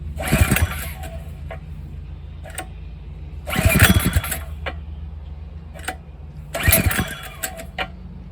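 A barn-found Greyhound engine, governor removed and fitted with a dirt bike carburetor, is cranked in three separate loud bursts, each turning over briefly before dropping back to a low background hum.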